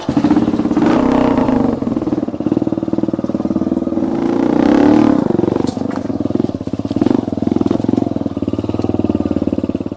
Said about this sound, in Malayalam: ബൈക്കുകളുടെ പാർട്സുകൾ ഉപയോഗിച്ച് സ്വന്തമായി സ്പോർട്സ് ബൈക്ക് നിർമ്മിച്ചിരിക്കുകയാണ്